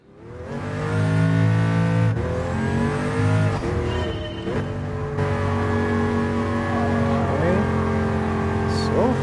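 Pagani Huayra engine in the GT Sport racing game, a loud sustained droning rev that rises and shifts pitch through several gear changes, with brief tire squeal; a voice can be heard faintly underneath.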